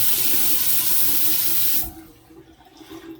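Water sprays hard from a bathroom faucet supply line being flushed out, a loud hissing rush that cuts off abruptly partway through, leaving a quiet room.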